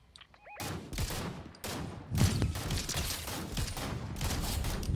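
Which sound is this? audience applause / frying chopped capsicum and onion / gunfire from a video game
gunfire from a video game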